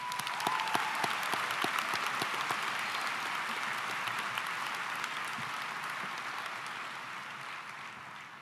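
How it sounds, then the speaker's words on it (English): A large audience at a high school commencement ceremony applauds steadily, dense clapping sustained throughout and slowly easing toward the end. "let's please give our teachers a round of applause"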